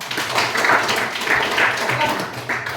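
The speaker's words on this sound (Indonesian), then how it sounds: "tepuk tangan untuk Chandra" A small group, likely a class, applauding Chandra, a brisk burst of mixed clapping that rises and dips over nearly three seconds, close, with faint voices mixed in.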